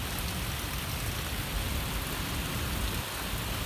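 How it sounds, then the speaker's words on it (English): Steady rain pours down during a severe thunderstorm in Westfield, Massachusetts, a dense, even hiss with soft patter on a surface, continuous and fairly loud, with no voices. "Now it's just raining."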